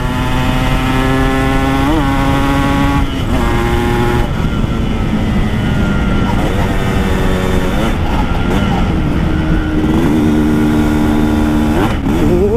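An old Kawasaki King motorcycle engine revs hard and close, rising and falling through repeated throttle blips with a raspy, buzzing exhaust that fills the whole recording.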